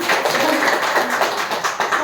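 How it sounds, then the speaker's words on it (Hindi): A group at a yoga session claps hands together, producing a brisk, uneven run of close claps that continues for a couple of seconds. "ताली तो बजा दो"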